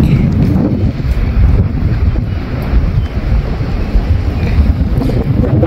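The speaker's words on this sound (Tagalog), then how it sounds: "Sobrang lakas ng hangin." Strong wind buffets the microphone outdoors with a loud, continuous roar and rumble that surges and eases over a few seconds.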